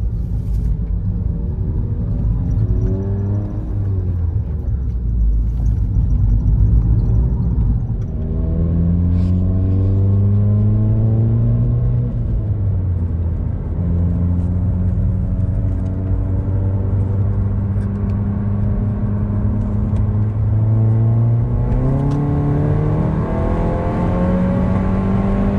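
A VW GTI with a Stage 2+ exhaust under normal driving with the windows up, a deep steady engine drone heard from inside the cabin, rising and falling through repeated gear changes, loud and continuous.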